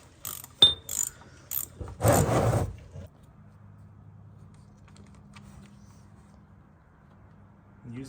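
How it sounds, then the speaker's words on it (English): Ratchet clicking a socket with an extender and cheater bar on a yellow Honda engine: a few sharp close clicks, then a dense burst of rapid ratcheting, followed by a quiet low hum to the end. "Use the ratchet now."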